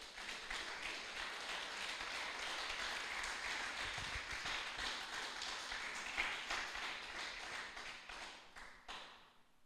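A church congregation breaks into sustained applause, a dense even wash of many hands clapping that fills the room before tapering off at the end.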